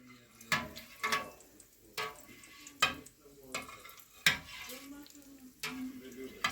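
A skimmer slices through cheese curd in a pot while making brinza, giving soft wet swishes and clinks repeated about every second, close and fairly quiet.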